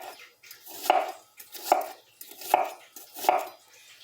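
A knife chops through an onion on a board in four even, quiet strokes spaced under a second apart, with no talking.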